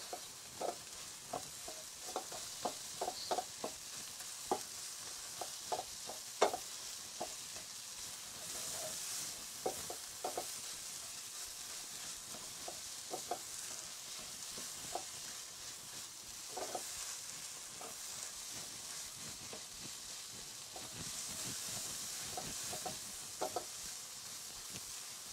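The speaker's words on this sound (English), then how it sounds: "So I'll saute for 5-6 minutes, because the ginger and all that has to get incorporated." Ginger and spices sauteing for a beef curry, a steady soft sizzle with frequent scraping stir clicks and taps of a utensil against the pan, moderately close with no talking.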